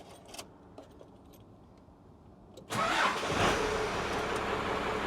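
Cummins diesel in a Dodge truck starting, with faint jingling keys first and then the engine catching almost instantly into a loud, steady rattling idle close by.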